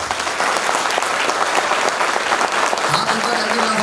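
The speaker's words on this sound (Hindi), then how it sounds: "अब ताली बजाओ" A seminar audience claps with hands raised, a loud, continuous roar of many hands beating together that fills the hall, with a faint voice rising briefly near the end.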